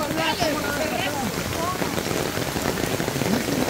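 A heavy rainstorm pours down hard and close, with dense, continuous drumming on surfaces and a little wind mixed in.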